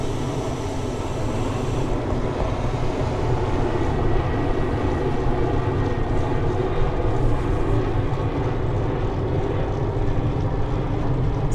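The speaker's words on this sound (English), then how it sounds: "Those planes, though." Airplanes fly over Newport Beach, making a loud, continuous engine drone that fills the whole stretch, with no voices present.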